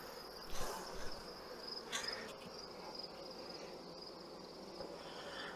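Honey bees droning around a small combined hive during a late-season colony check: a faint, steady buzz with a few passing louder bees, close to the hive, with no voice.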